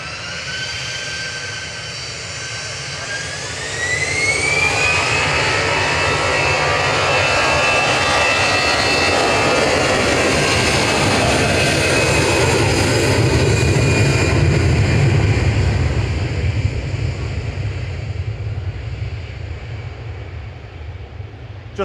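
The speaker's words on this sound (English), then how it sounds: "Ryanair landing in the background from Dublin." A Ryanair jet airliner arriving from Dublin lands at Manchester Airport. Its engines roar loudly and steadily with a rising whine, then fade slowly as the aircraft passes.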